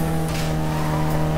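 A race car with nitro boost engaged in the Need for Speed Carbon video game, a steady loud engine drone with a faint tire squeal, continuous and close, with no talking.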